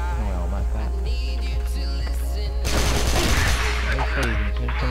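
The Kac Chainsaw machine gun in CrossFire fires rapid, continuous bursts of gunshots over a low electrical hum. The firing grows heavier and denser about halfway through, and a voice talks faintly underneath.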